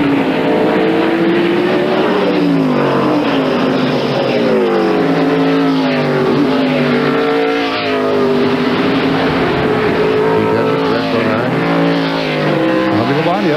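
NASCAR stock cars racing in the 1997 Save Mart Supermarkets 300, their engines a loud, continuous roar with pitch rising and falling as cars pass, all under steady commentator talk.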